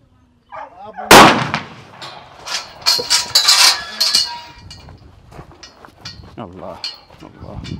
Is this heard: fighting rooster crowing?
no